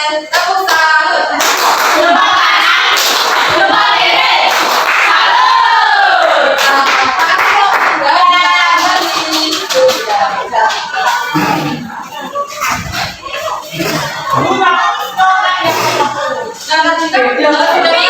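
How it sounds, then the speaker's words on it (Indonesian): A classroom of young children claps together in a loud, continuous burst, mixed with excited shouting and cheering voices throughout. "Kita beri tepuk salut."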